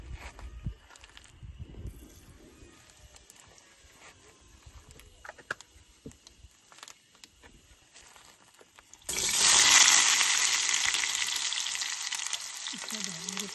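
Fish frying in a pan at a summer car-camping site beside a Tata Nexon camper, the sizzle bursting in loudly about two-thirds through after quieter outdoor clatter and rustling, then hissing steadily to the end.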